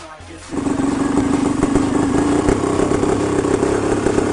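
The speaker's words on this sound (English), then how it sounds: "The engine of the motorcycle roared to life after about 7 or 8 kicks on the Kickstarter." An old dirt bike's engine catches after kick-starting and settles into a loud, steady, clattering run, close by and alone without talk.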